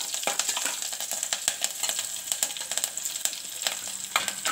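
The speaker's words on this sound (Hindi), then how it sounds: "गोटा मसला हमरो फ्राई हो सारानी, एथिरे पुणी कंचा लंका दुईटा ऐड कर दबा" Green chilies go into sizzling egg masala in a pan, giving a bright, steady frying hiss broken by crackles and spoon scrapes, close up and with no voices.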